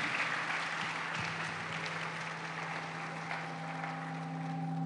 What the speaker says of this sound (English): a hand of applause to us.